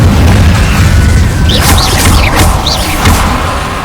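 Loud, continuous blasts from the Confringo fire spell in Hogwarts Legacy, a dense rumbling barrage with bright crackling bursts repeating in quick succession near the listener.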